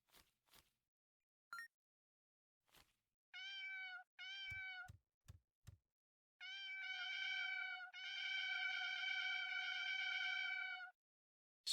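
A cat meows in the horror video game Mausoleosis, with several short mews and then long, drawn-out, wailing meows, close and clear against near silence, interspersed with a few soft clicks.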